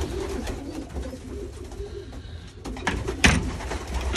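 Young pigeons coo in low, repeated murmurs close by, with a louder clatter and rustle near the end.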